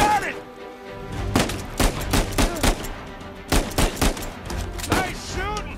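In the video game Uncharted 4, bursts of gunfire crack out in rapid clusters and single shots across a tense firefight, with characters' voices talking between the volleys.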